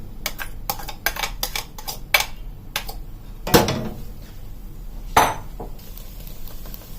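Chopped cabbage for a sweet cabbage kheer is tipped into a metal cooking pot, making irregular clinks and clatters of metal against metal, with a couple of heavier clanks as the pieces and utensils land.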